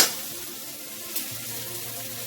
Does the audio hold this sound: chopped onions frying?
yes